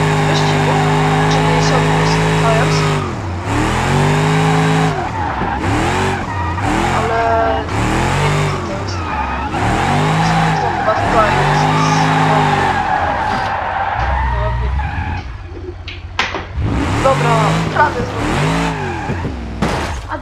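Cars drift and skid across a slippery track in a racing video game, played with a steering wheel, tires squealing and engines wailing in repeated sweeping arcs, loud and continuous, with a voice talking over it.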